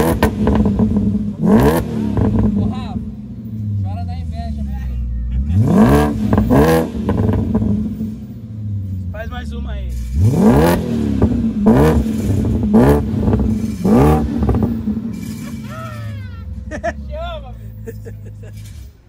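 A cold BMW V8 engine revs hard in repeated bursts, roaring up and dropping back over a steady idle, with people talking between the revs.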